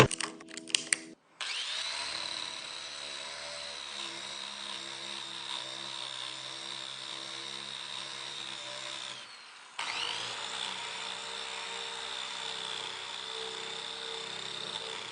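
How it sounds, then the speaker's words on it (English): A Restorer power tool fitted with an aggressive braided steel cable head scours old wood. After a few sputtering starts, it settles into a loud, sustained whine, cuts out briefly, then roars back up. "Now this is the braided cable one. It's the most aggressive. Let's throw it in and see what it does."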